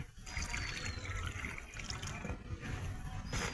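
Water poured onto a mix of cow dung and soil for lemon tree air layering, a soft continuous trickle and splash running steadily and fairly quietly.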